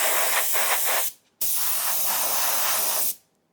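An aerosol spray hisses loudly and close while grease is applied under a car's wheel arches and underbody, in two long bursts separated by a brief pause.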